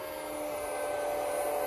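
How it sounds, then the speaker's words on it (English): Cooling fan of a Cosmos Audio EP-2000.5 five-channel car amplifier running, a brief steady airy whoosh with a faint tonal whine, close and fairly quiet, no talking. "That's the sound of the fan."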